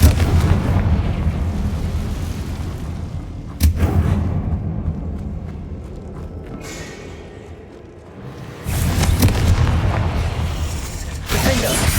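Confringo fire spell blasts in the Hogwarts Legacy video game, loud booming explosions with a sharp hit near four seconds and another rumbling burst near nine, over continuous battle noise.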